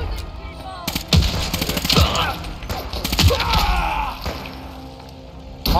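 Gunfire in the Fallout 4 video game: several loud, sharp shots and short bursts, with grunts and voice sounds mixed in among the blasts.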